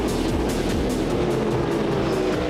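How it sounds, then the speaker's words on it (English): Race cars thunder past on an oval track, a dense loud roar of several engines with repeated pass-by swells and dropping pitch, no talking. "There they go, thundering past now."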